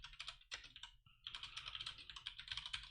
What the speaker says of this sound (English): I'm going to wind up typing that a bunch of times